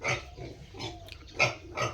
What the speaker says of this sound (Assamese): এইকেইটা হয় মোৰ গাহৰি পোৱালিকেইটা।